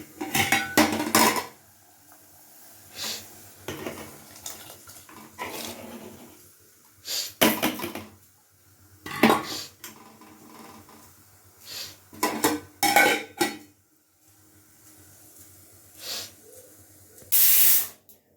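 Pots, pans and utensils clatter in a home kitchen while tea with black pepper and ginger is made, with loud separated bursts of metallic knocks and scrapes spread across the stretch, quiet gaps between them and a short hiss near the end.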